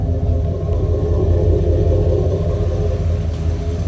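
A Suburban's engine idles steadily, loud and close, with a deep continuous rumble and an even, unbroken drone and no talking over it.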